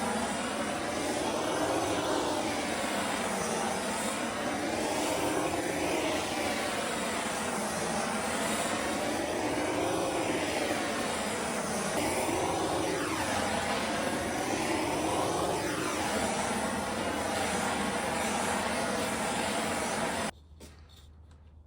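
A MAP gas torch burns an axe handle to darken the wood, a steady roaring hiss close by that swells and fades in slow waves as the flame moves, then cuts off near the end.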